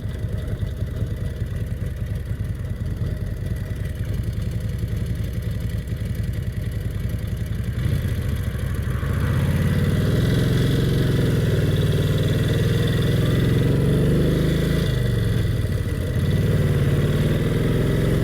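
An over-80-year-old Brough Superior SS80 vintage motorcycle with a rigid rear end ridden along country lanes, its engine a low steady drone that swells into a louder, deeper pull under acceleration, heard up close from the rider's position.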